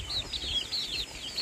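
Rhode Island Red chickens cluck and chirp in a quick series of high, repeated calls over a soft low background rumble, fairly close by.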